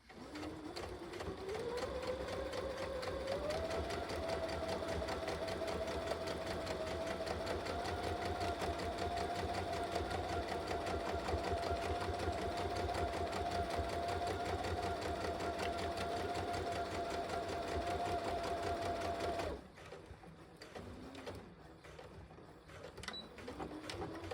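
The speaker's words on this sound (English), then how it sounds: "I'm going to back stitch 2 stitches right off the edge, and then I'm going to keep going all the way along the side seam." A sewing machine runs steadily as it back stitches and then sews along a jacket side seam, a fast even whir for about twenty seconds before stopping, with faint handling sounds after.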